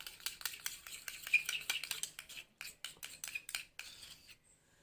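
Homemade lip balm ingredients being mixed, a quick series of close, sharp scraping and clinking stirs against a small container, fading out at the end.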